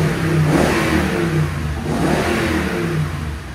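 Deep exhaust rumble revs and surges repeatedly from a nearby 2021 Toyota Tundra 5.7L V8 with X-pipe and Borla Pro-XS exhaust, loud and steady, with no voices.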